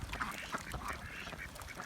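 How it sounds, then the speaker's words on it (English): Wild ducks at a natural rain-fed pond quack several times in quick succession, moderately close over faint outdoor background noise. "Found some wild ducks out here."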